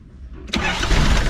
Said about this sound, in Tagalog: try natin i-start ulit kung successful talaga